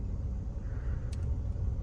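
Engines idle and rumble steadily in a stalled line of traffic on a Ladakh mountain road, with a truck stuck ahead and an army vehicle passing, forming a continuous low drone close by.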